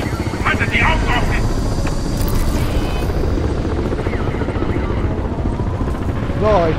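Helicopters approach in the video game Crysis 3, a constant rotor and engine drone heard under ongoing voices and other game sounds.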